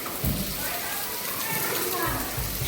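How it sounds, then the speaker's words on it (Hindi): Steady broadband hiss of rain pours throughout, with bursts of voices talking over it. "सीधी बारिश है बिल्कुल।"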